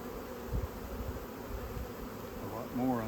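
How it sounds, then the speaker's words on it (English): A dense, steady buzzing of a close honeybee swarm, a low droning hum that swells briefly near the end, with no talking. "There are lots of bees on there."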